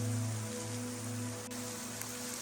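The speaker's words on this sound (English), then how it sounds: "this waterfall just started. It was trickling, but now it's coming down harder" A freshly started waterfall pours into a rock grotto in Zion National Park, a steady, even hiss of falling water like rain, with a low hum underneath and a faint click.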